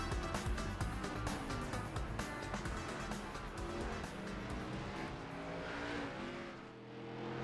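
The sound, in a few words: race car engine from sim racing video game, GSRC SK mod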